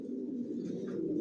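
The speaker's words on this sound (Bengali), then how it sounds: "আমার লফটে সবাই কিলেনের কবুতর পালি" Racing homing pigeons coo softly in a loft, a low continuous murmur of throaty calls close by and quiet, with no talk.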